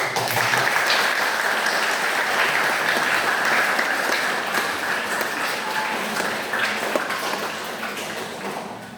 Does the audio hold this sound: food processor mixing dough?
no